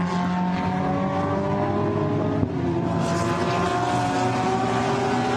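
Porsche GT race cars at Barcelona roar past in a Blancpain GT Sports Club race, with a steady, loud engine drone rising in pitch as the cars accelerate, one brief click midway and no talk.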